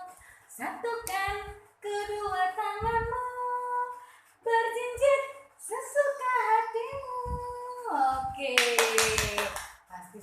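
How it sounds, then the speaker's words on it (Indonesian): Children sing a clapping action song with an adult leading, their voices carrying the melody while rhythmic hand claps punctuate the phrases in short bursts. "Tepuk-tepuk tangan kirimu, tepuk-tepuk sampai ke bahu, tepuk-tepuk tangan kananmu"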